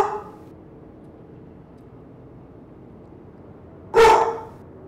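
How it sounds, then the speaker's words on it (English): A real household dog gives a single loud, close bark after several seconds of near silence. "Dog barking."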